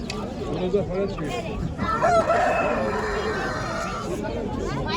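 A rooster crows amid busy chatter at a chicken market in Kırıkkale, Turkey, several voices talking nearby as birds cluck in the background.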